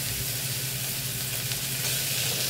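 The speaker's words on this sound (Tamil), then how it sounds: "வெங்காயம் நல்லா வதங்கினதுக்கப்புறம் கட் பண்ணி வச்சுருக்க தக்காளியை சேர்த்துக்கலாம்." Onions and tomatoes sautéing in a pan for a South Indian kuzhambu, a steady close sizzle and frying hiss running throughout with no talk.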